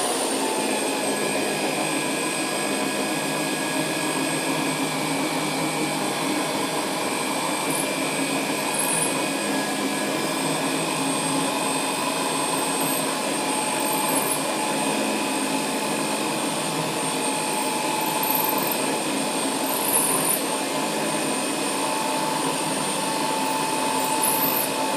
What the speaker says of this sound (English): I'm going to start at slow speed and I'm just going to drill all the 4 holes here.